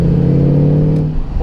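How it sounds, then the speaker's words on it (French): Morgan Plus 8 engine idling along at low revs on a light throttle, a deep, smooth, even purr close up, steady and loud throughout with a slight dip near the end. "le ronronnement et le couple du moteur à bas régime"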